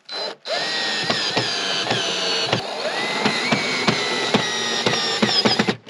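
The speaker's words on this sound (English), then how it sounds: "I just have a drill." A cordless drill whirs steadily while driving Phillips screws into a Greenworks 80V battery snowblower during assembly, close and loud, with brief pauses and repeated short trigger bursts near the end.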